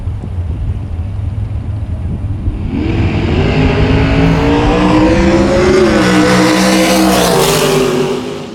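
A pair of nitro dragsters roars down the drag strip at a drag racing meet, a loud engine rumble that rises into a rising, screaming wail as the cars accelerate away, with no talk.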